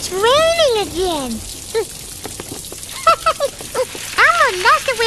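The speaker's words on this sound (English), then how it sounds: "It's raining again." Rain patters steadily on a surface in a children's TV show setting, a soft continuous hiss beneath high, sing-song character voices speaking over it.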